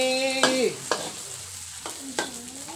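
Egg frying in a pan with canned fish, a soft continuous sizzle broken by a few scraping stirs of a utensil against the pan, close and fairly quiet.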